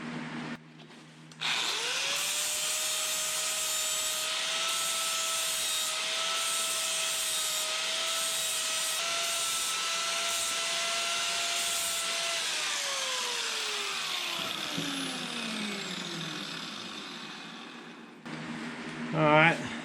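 An angle grinder grinds down the edges of a welded steel T-dolly built from hardware store parts, a loud steady whine held for about ten seconds before spinning down, with a brief clatter at the end.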